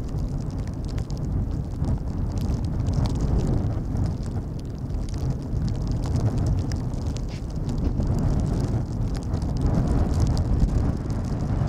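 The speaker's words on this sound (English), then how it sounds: "we have like wind gusts over 25 until 30 knots today" Strong gusty wind buffets the microphone at Schiphol Airport on a stormy day with gusts of 25 to 30 knots, a continuous low roaring rumble that swells and eases without letting up.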